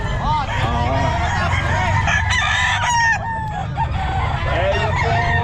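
Roosters crow and chickens cluck loudly and up close at a crowded pet market in Bocaue, repeated calls overlapping with honking fowl under steady background chatter.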